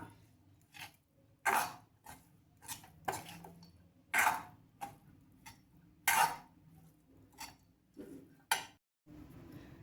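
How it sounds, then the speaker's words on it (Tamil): Cooked rice being stirred into sautéed raw mango in a pan, giving intermittent scraping and clinking bursts of a spoon against the vessel, fairly close and moderately loud, with quiet pauses between strokes. "சாதத்தை நம்ம மாங்காய் வதக்கினதோடு சேர்த்துக்கலாம். நல்லா கிளறி கொடுத்துக்கலாம்."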